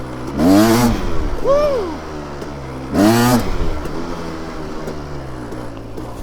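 A KTM 300 two-stroke dirt bike fitted with a Lectron H series carburetor, revving up twice in close, loud rising bursts between gear changes, with a brief shout over the engine.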